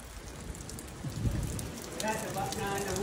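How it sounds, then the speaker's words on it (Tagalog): Steady rain mixed with hail falling on surfaces during a sudden storm in Saudi Arabia, a close, dense patter with scattered harder hits, with faint voices in the background. "Mga 20 minutes lang na ulan yan."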